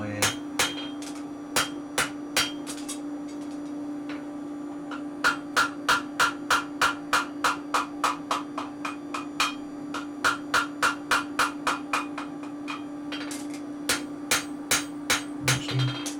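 Steady hammer blows ring on hot steel as a billhook blade's tip is thinned at the anvil, dozens of sharp metallic strikes in quick even bursts with short pauses, close and loud over a constant low hum.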